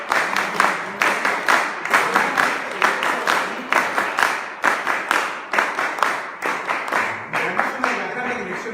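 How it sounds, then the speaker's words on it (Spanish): An audience at a political gathering claps in rhythmic bursts, close and fairly loud, with waves of applause swelling and fading repeatedly across the stretch. "quisiera pedirles un aplauso para Lucho Alba, para Nito Trujillo"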